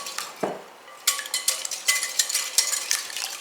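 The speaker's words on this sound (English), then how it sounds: "you want to violently whisk the eggs" Eggs being whisked hard in a large bowl, a rapid run of close, bright clinks and scraping strokes of the whisk against the bowl, with no talking.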